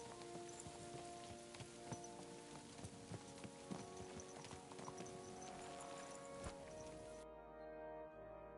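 Horse hooves clip-clopping in the video game Kingdom Come Deliverance 2, a steady quiet walking rhythm over a constant bed of rain pattering on surfaces.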